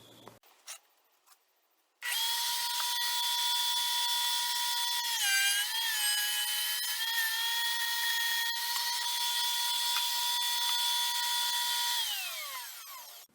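A router table cuts a groove in wood for a mid-century modern style bed, the motor starting abruptly into a loud steady high whine that dips briefly as the bit bites, then winds down at the end.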